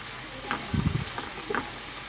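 Onions, tomatoes and green chilies frying in a pan, a quiet background sizzle broken by a few close scraping stirs of a spoon, with no talk.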